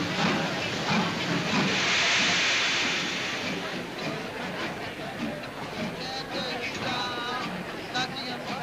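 Steam train at a railway station in a 1943 setting, a broad steady hiss filling the scene at close range, with voices talking over it throughout.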